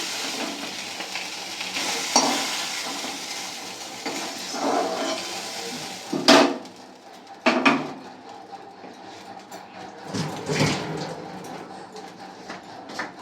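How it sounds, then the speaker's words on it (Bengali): Bata fish fry in oil in a pan with a continuous crackling sizzle, broken by several sharp clanks and scrapes of a spatula against the pan. "এইভাবে সবগুলোই আমি ভেজে নেব।"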